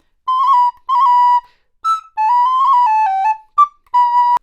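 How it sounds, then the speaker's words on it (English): A bright recorder plays a short phrase of separate notes, with a quick wavering trill from C down to B in the middle, clear and close with no voices. "I hear Michelle doing a little trill every time she goes from a C down to a B"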